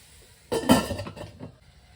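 A metal lid clanks down onto a cooking pot of sago upma, a single close, sharp clatter with a short rattle that quickly fades, with no talk.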